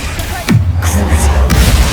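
The Bombarda spell exploding in Hogwarts Legacy, a loud booming blast with a rumbling low tail and sharp bursts over continuous game noise.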